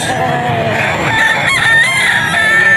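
A white bulig sweater gamefowl rooster crows loudly and close at a crowded market, a long drawn-out call rising over constant background crowd noise.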